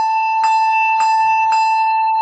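A handbell is gripped hard and rung in a steady rhythm of four loud, close strikes. Each strike has a bright, ringing metallic tone that sustains between hits, and there is no talking.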